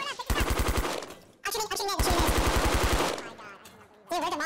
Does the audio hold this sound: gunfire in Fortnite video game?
yes